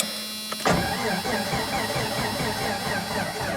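After a sharp click, a car's starter motor cranks steadily and rhythmically for several seconds without the engine catching.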